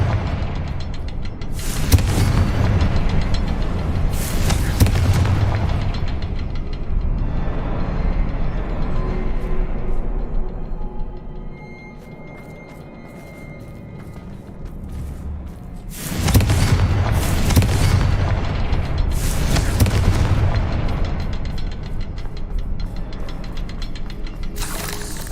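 Confringo fire spell explosions in Hogwarts Legacy, several loud booming blasts with crackling bursts and rumbling tails, two clusters of impacts separated by a quieter stretch of game ambience.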